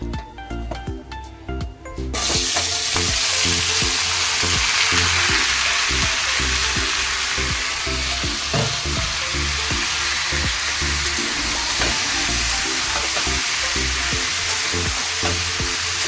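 Lentils fry in a pan while being stirred, bursting into a loud, dense, close sizzle after a quieter opening couple of seconds and holding steady with faint stirring scrapes underneath.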